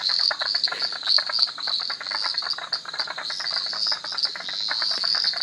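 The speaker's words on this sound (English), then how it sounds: "That's a very healthy population of frogs." A dense chorus of frogs calls at a garden pond at night, a loud continuous pulsing trill of many overlapping voices, close and steady with no talk.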